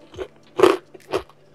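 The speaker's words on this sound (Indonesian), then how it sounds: "kriuk banget di luarnya, empuk, lembut, gurih banget sosisnya" Three crisp bites crunch into a fried sausage snack with a crunchy outer coating, each a short, sharp crackle close to the mic with quiet pauses between them.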